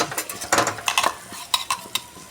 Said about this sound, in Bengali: ধনিয়া গুঁড়ো, লঙ্কা গুঁড়ো করে কষিয়ে নেব